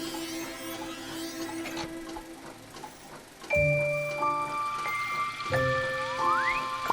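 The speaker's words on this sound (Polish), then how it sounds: "w tym momencie powinien spaść deszcz, bo to jest maszyna do robienia deszczu" A rain-making machine runs in the Growbot video game, giving off bright chiming, jingling electronic tones over a soft hum. Two fuller bursts about halfway through add rising tonal sweeps.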